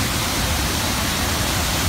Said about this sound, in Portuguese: Entramos na Cachoeira do São Romão.